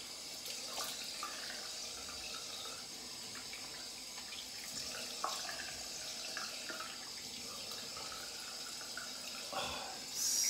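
Tap water runs steadily into a sink as a shaving brush is rinsed under it, a continuous close splashing flow with small shifts in the stream and no talk.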